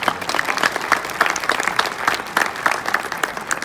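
An audience at an award ceremony claps steadily and densely, a sustained round of applause with no talking over it.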